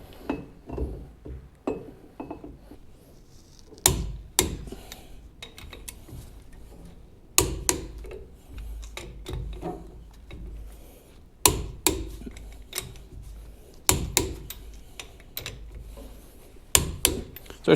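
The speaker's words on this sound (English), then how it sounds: "So I just torqued them down to 95." A torque wrench tightens lug nuts on a mini truck wheel fitted with a 1-inch spacer, giving sharp metallic clicks and clanks in irregular bursts over a quiet background.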